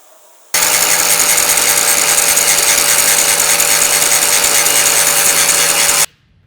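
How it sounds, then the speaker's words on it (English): A power grinder grinding down a weld root, starting abruptly and holding a loud, steady, high-pitched whine with a constant hum for about five and a half seconds before cutting off. "what I like to do is I like to grind down my root"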